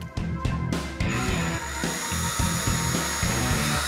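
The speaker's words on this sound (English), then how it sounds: "All right, now we're ready to drill." A power drill runs in bursts during a hands-on performance automotive install, with several short whirring pulses up close and steady loud motor noise between them, no talk over it.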